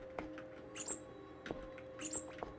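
Bunny rabbits in the RPG Maker horror game Lux give high, thin squeaks, a few short chirps spaced apart and quiet, over faint soft pattering.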